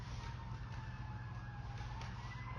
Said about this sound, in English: If you guys can hear the sirens.